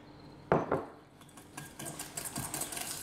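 Eggs and sugar mixed in a bowl with a utensil, starting with a clattering knock and followed by irregular scraping and tapping strokes close by, with no talking.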